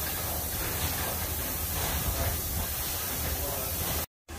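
Steam hissing from the boiler pipes of a traction engine at a steam rally, a loud, steady broadband hiss that continues without a break for about four seconds, then cuts out briefly.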